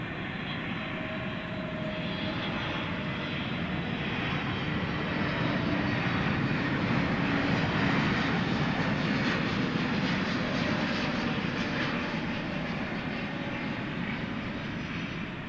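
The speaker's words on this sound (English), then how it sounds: "1646 is coming in. This is an Airbus A321neo arriving from the Valley of the Sun" An Airbus A321neo jet airliner arriving at DFW Airport at night in rain, its engines making a steady, broad roar that holds close and loud throughout, swelling slightly in the middle, with no talk.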